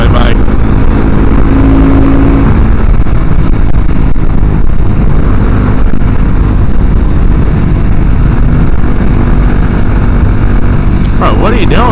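A Husqvarna 701 motorcycle rides with a steady, loud engine drone and wind rush throughout, the continuous roar filling the whole stretch with a brief rising whine near the end.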